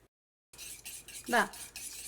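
Egg and chopped coriander leaves are mixed in a bowl, with light spoon scrapes and a few quick metallic clinks close by after a brief silence.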